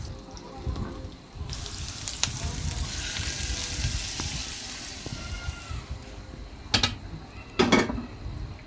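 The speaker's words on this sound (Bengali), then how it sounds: "এটাও সেম প্রসেসে বাগার দিয়ে দিলাম" Meat curry for a festival feast being tempered with hot spiced oil, a broad sizzling hiss that swells in the middle, with a few creaks and two sharp metallic clanks near the end.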